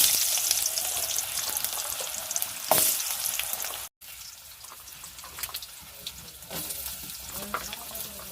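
Potatoes fry with ginger and garlic for a pointed gourd (potol) and potato curry, giving a steady close sizzle that drops out for a moment near the middle and then resumes a little quieter, with occasional stirring scrapes.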